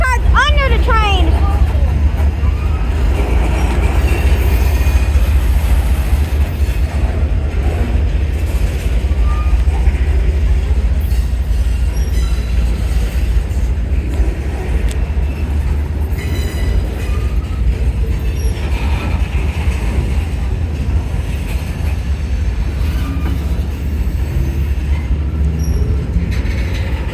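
A train with flat cars rolls past close by on the tracks, making a loud, continuous rumble with occasional wheel squeal, and voices can be heard faintly over it.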